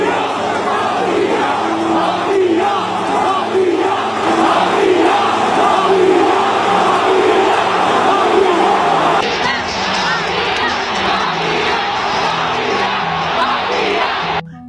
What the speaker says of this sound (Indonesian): jeritan dari pendukung Indonesia.